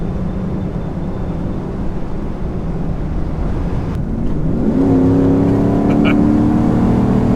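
A car's engine gives a throaty, aggressive rumble while driving, a loud steady low drone heard from inside the cabin that rises in pitch as it accelerates partway through.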